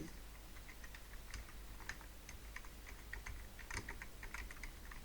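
Rapid typing on a computer keyboard, a steady run of light clicky keystrokes close to the microphone over a low background hum, with no one speaking.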